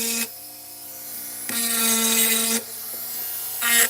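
A Dremel rotary tool shapes a small curve on a bench workpiece, its high motor whine rising in three separate bursts of grinding with short quiet pauses between them, close and clear with no talking.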